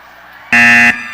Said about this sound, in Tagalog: Masisira po yung buzzer natin.